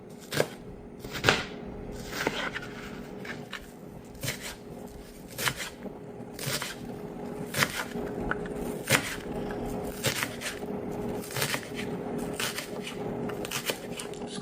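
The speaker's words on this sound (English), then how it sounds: "So guys, we're gonna cut this up." A knife chops an ingredient for Jamaican jerk meatballs on a board, with sharp, irregular taps spread across the clip over a faint background hum.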